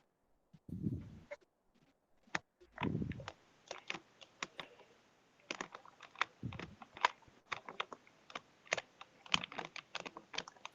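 Computer keyboard keys clatter during a Valorant match, including Tab presses, a fast irregular run of close, crisp clicks with a few thumps and short pauses.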